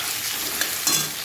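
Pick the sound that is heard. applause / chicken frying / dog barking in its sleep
chicken frying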